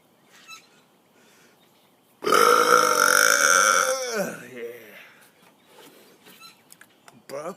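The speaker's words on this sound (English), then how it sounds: "Burp like a bear." A long, loud, croaking burp rises after a quiet start, rumbles for about two seconds, then trails off into faint background noise.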